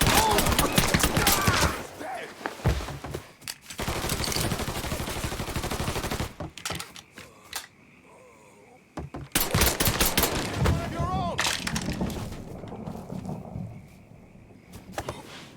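Repeated bursts of rapid gunfire in the video game Mafia 3, loud and close, with automatic volleys, single shots and brief pauses, plus shouted voices in between.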